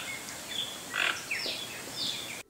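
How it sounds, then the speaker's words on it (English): Toucan calls, short croaking chirps that sound rather like frogs, come in a few separate bursts from a moderate distance over a steady outdoor hiss, with no talking. "Toucans are among the world's noisiest birds."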